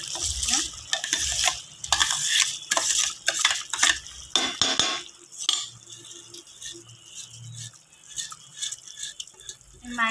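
A spoon stirs and scrapes methi veg pulao in a pan over a medium flame, with irregular metallic clinks and soft rustling mixing that come close and moderately loud, alone without talk.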